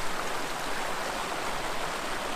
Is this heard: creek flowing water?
yes